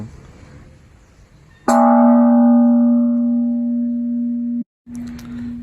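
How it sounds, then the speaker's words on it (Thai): A single loud strike on a large, thick ancient temple bell, ringing out with a long sustained hum that fades slowly before being cut off. "มีระฆังโบราณนะครับรูปทรงสวยงามนะครับ เดี๋ยวขอเขาะระฆังสักครั้ง"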